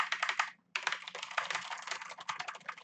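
Fast typing on a Corsair K70 LUX mechanical keyboard with Cherry red switches, a dense stream of close key clicks and thocks with one brief pause, no voices.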